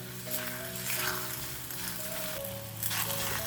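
Flatbread batter made from urad dal sizzles in oil on a hot tawa, a steady close crackling hiss that runs alone and unbroken with no voices.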